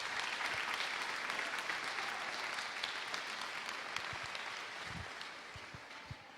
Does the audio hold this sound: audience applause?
yes